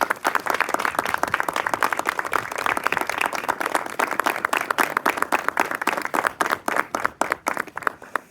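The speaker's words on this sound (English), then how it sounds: "Round of applause." A Navy veteran being welcomed home draws a round of applause from an audience at an open house presentation, dense steady clapping that thins out toward the end.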